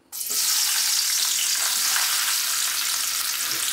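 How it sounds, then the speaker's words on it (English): Sliced onion dropped into oil and ghee in a kadai, bursting into a loud, dense, close sizzle right after a brief quiet start and holding steady to the end. "now let's saute the onions till it gets nice brown and crispier"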